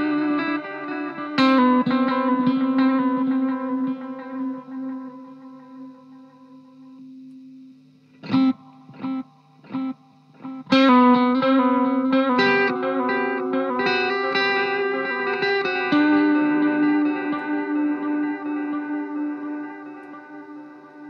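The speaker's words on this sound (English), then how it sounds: "This is a dual delay, if you can hear." Electric guitar through a dual delay pedal with the amp's reverb off, sustained chords and short plucked stabs trailing into repeating echoes, played alone and fairly loud.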